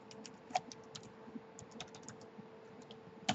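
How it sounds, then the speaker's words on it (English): Quick, steady typing of a long password on a computer keyboard, a close run of light key clicks with a few louder taps, no talking. "Type in my password,"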